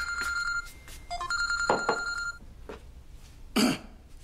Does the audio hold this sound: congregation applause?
no